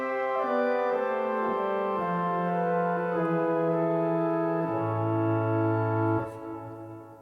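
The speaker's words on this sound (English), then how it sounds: "Diapason, kind of a flute, sort of, made of wood or of metal." Diapason organ stop on a Yamaha Genos 2 keyboard plays sustained, steady organ tones, shifting through several held chords and notes before a final change, with no voices.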